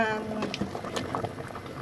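Ginataang bilo bilo, rice balls in coconut milk, simmers in a pot with soft bubbling pops and gentle liquid patter, close and fairly quiet, with brief voices in the background.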